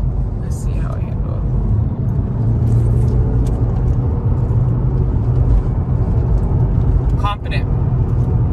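A Mazda3 Turbo takes a turn at speed, its engine and road noise forming a loud, continuous rumble heard from inside the cabin, with brief light sounds near the start and toward the end.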